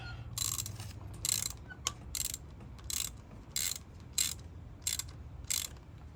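A ratchet tightens a spark plug on a 2017 Toyota Prius Prime with about nine sharp, evenly spaced bursts of clicking, each a short run of pawl ticks with quiet gaps between.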